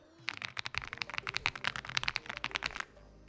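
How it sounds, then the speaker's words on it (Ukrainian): Someone types on a new white Proof Gaming keyboard, producing a rapid, uneven stream of crisp clicky keystrokes recorded up close, with a brief quiet pause at the end. "Маємо ось таку білесеньку клавіатуру. Слухайте, як вона звучить, пацани."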